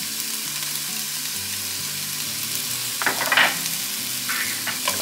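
Onion and garlic sizzle steadily in a hot pan, a continuous frying hiss with a few louder crackles and stirring scrapes near the middle and end, close and unaccompanied by voices.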